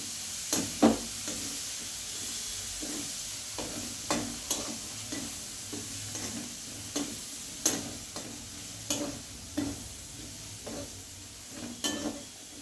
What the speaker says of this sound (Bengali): এবার পেঁয়াজটা বেশ একটু লাল লাল করে আমি ভেজে নেব।